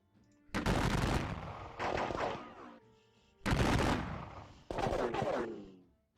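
Two pairs of heavy, rolling gunfire volleys from a Gettysburg Civil War battle video game, each burst a sustained crackling rumble lasting about a second, loud and close with short pauses between.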